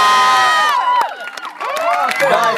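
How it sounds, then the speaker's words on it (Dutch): A crowd cheers loudly for a team, with high excited shouts and screams from many voices and some clapping mixed in. The sound is continuous and close, and it dips briefly in the middle. "Een daverend applaus voor team 2!"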